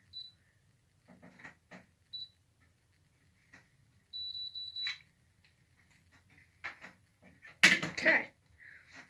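A Curl Secret 2.0 hair curler gives short, high electronic beeps, a few single chirps and one longer tone, with handling noise and a brief loud burst near the end.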